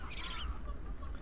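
A chicken squawks and clucks in the Muppets Monster Adventure video game, a short nasal honking call over a low rumbling game background.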